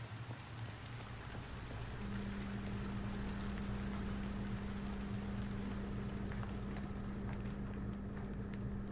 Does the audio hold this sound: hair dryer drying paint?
no